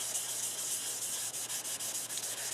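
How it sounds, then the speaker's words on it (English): A Scotch-Brite pad rubs Osmo hardwax oil into a scratched wooden surface, making a close, hissy scrubbing sound in quick, even back-and-forth strokes with no voices. "I usually use a Scotch-Brite pad just to work the oil in a bit"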